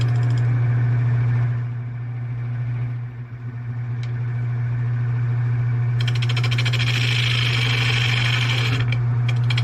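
A wood lathe hums at a loud, steady pitch as it spins an uneven wooden bowl blank that runs slightly off true. Partway through, a harsher, brighter cutting hiss joins and carries on over the motor drone.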